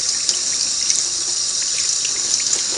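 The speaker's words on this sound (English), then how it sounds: "You want to rinse all the cleaner off very good." Tap water streams steadily into a sink, rinsing cleaner off Singer 301A sewing machine parts, a constant close splashing hiss with small drips and spatters and no voices.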